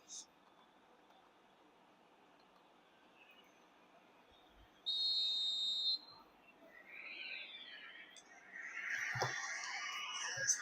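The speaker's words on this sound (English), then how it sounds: "There's the whistle." A referee's whistle blows to start a football video game match, a bright sustained tone of about a second against crowd murmur, with a commentator talking over the stadium ambience.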